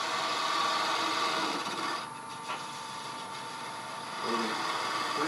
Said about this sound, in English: Now I'm going to come back to that spindle gouge and start smoothing this a little bit